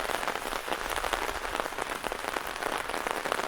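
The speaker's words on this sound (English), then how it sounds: "it says here rain under raincoat" Rain pattering onto a raincoat, a close, crackling patter of many individual drops with slight pulsing in loudness, continuous and fairly loud with no voices.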